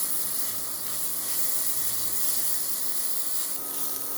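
Grated carrot and onion sauté gently in oil in a pan over low heat, giving a steady soft sizzle and hiss that continues evenly, close up, with no talking.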